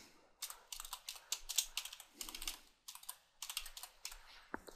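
Typing on a computer keyboard, irregular bursts of close, crisp key clicks with short pauses in between, running steadily throughout with no speech.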